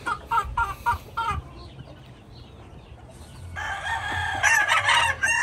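Chickens and roosters on a California farm, including an older hen, cluck in short bursts before a rooster crows loudly and close in the second half.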